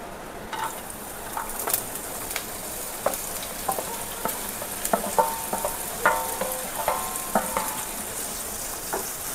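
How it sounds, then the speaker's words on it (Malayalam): Two onions and two green chillies heating in a pan for butter chicken, with a constant sizzle broken by frequent clicking, scraping stirs, close and fairly loud, with no talking. "നമുക്ക് ആദ്യം ഇത് ഒന്ന് ചൂടാക്കിയെടുക്കാം"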